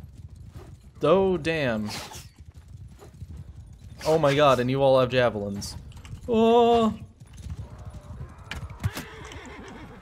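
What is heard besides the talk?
horses galloping and neighing, from the video game Mount and Blade II: Bannerlord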